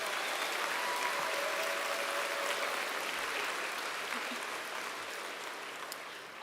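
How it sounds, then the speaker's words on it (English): At the 2025 North Peace Secondary School graduation ceremony, an audience gives a long round of applause for the organizers. The clapping is moderately soft and hall-filling and tapers slightly toward the end. "If we can just get a big round of applause for all the people who made sure we could have today"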